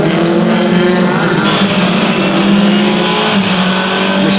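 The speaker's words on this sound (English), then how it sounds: "he has a very hungry and very quick Dahlgren in the Volvo" WTCC touring race cars, including a Volvo, roar past at Donington Park in a dense, sustained engine howl, loud and continuous, with a commentator's voice partly buried in the din.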